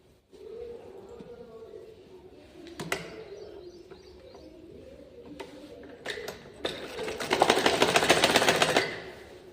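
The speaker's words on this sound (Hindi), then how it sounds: "अब इसे सीधा करके एक सिलाई और लगा दूंगी" A sewing machine stitches a seam on a blouse belt, with a quieter intermittent hum and a few knocks before a louder, continuous run of stitching near the end, close by.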